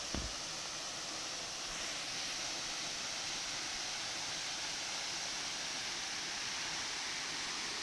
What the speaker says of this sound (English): So let's take a view of the waterfall.